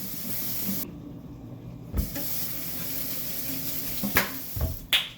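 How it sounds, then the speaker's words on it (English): Running tap water splashing and hissing steadily as hands are washed in a kitchen, a soft continuous rush with occasional louder splashes and knocks near the end. "The most important step is to wash your hands."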